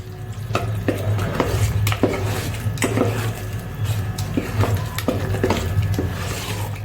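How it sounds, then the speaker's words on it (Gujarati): A spoon stirs a thick jowar and maize flour batter in a bowl, giving irregular wet scraping and soft knocks at close range over a low background hum. "હવે બધું આપણે મિક્સ કરી લઈ"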